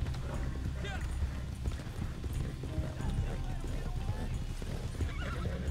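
A horse in Red Dead Online neighs and clip-clops at a gallop with steady hoofbeats and breathy snorts, while players talk over the action.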